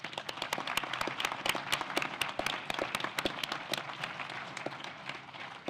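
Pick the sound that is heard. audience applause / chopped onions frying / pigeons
audience applause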